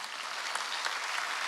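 A church congregation applauds at a Sunday worship service, a dense steady clapping that fills the room from start to finish without pause.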